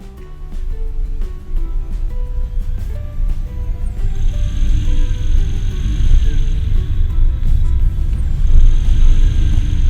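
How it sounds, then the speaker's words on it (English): A Toyota Yaris self-charging hybrid drives along with a low road rumble that gradually grows louder, as the petrol engine cuts in with a steady higher hum and faint tonal whine, heard from inside the cabin. "please pay attention to the vehicle's speed, the point at which the engine comes in, and how economically I'm driving the car"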